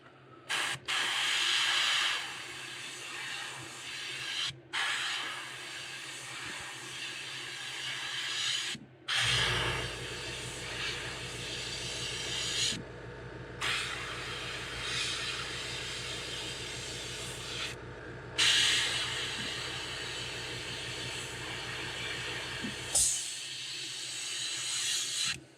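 An airbrush sprays paint onto a fishing lure in steady hissing bursts, with short pauses between passes. The pressure is turned down to around 20 for thin lines.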